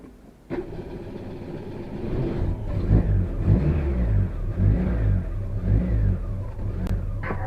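A Dacia 1300 engine, after ignition repairs and static timing adjustment, revs up and down several times in repeated surges, loud and close, settling between each rise.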